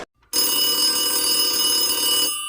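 An old-style telephone bell rings in a continuous metallic trill for about two seconds in a radio play, loud and alone, then cuts off.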